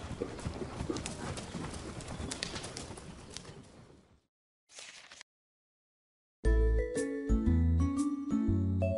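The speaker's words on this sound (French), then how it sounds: "Le cousin Gilles tient Pâquerette par la longe pour qu'elle ne parte pas au galop" A mare's hooves clip-clop around a riding ring in a steady walking rhythm with faint birds, then the sound breaks off into silence and gives way to music.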